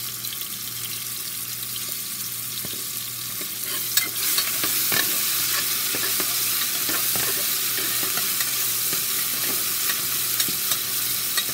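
A pinch of asafoetida sizzles in hot oil for a tamarind curry with brinjal and drumstick, a steady crackling fry with stirring scrapes and light clinks that grow busier partway through, no talking.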